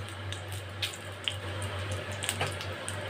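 A bay leaf and five-spice seeds frying in oil, a continuous soft sizzle with scattered small pops and crackles, steady and close over a low background hum.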